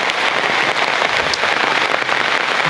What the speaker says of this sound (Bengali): যত বৃষ্টি হইতেছে পাঁচটা ঘন্টা ধরে বৃষ্টি হইতেছে